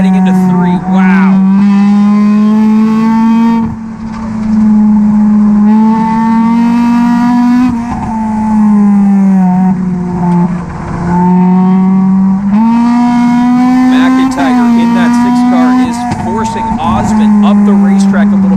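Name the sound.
stock race cars racing around the track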